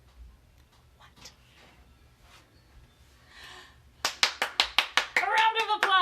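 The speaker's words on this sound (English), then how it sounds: "A round of applause. The crowd goes wild." A small round of hand clapping, about eight sharp claps in quick succession, close and loud, following quieter background murmur, with a cheer at the end.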